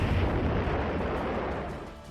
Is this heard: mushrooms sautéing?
no